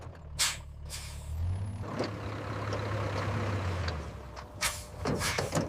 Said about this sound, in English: Stop the truck now!